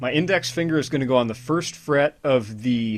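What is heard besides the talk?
No everyday noises stand out.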